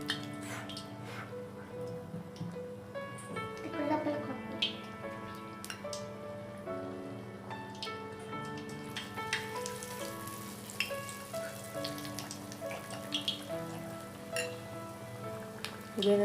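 Potato slice pakora fries in oil over a medium flame, a steady soft crackle and scattered tiny pops running throughout at moderate, close level, with no talking.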